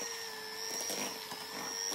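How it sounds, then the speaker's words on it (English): An electric pan mixer whizzing butter in a bowl, a steady close whirring hum with a high whine that holds throughout. "I am going to just plug in my pan mixer. I'm actually just going to whiz up the butter first"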